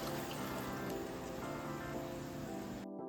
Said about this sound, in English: now I'm adding my water